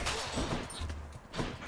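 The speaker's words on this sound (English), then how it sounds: "I'm not interested in your weird explosions" A dense burst of explosions and gunfire from the video game Hades rumbles continuously, loud booms and crackle layered together with no talking.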